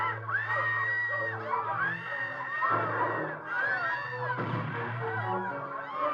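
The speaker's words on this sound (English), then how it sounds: "that screaming is giving Neo Ridley a run for his money" A woman screams repeatedly in a horror film soundtrack, the shrill cries rising and falling loudly over music and crowd-like shouting.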